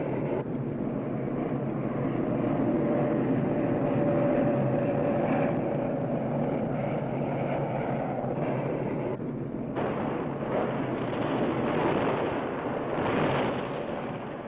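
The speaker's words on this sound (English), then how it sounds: "And then there are the B-52 bombers striking from nearby Thailand." B-52 bombers pound the demilitarized zone with tons of explosives, a dense continuous roar of aircraft and rolling blasts that stays loud and steady throughout with no speech.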